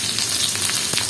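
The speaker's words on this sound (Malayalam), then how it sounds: "ഉള്ളി ഇട്ട് കൊടുക്കാം." Onion goes into hot oil, already crackling with mustard seeds, for a potato stir-fry: a loud, close, steady sizzle that hisses brightly throughout with no talk.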